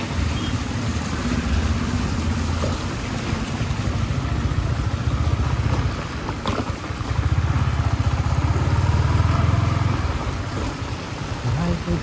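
A Yamaha MT-15 motorcycle riding along a rough, potholed village road in rainy weather, its engine a steady close drone throughout with a low rumble that swells and eases slightly.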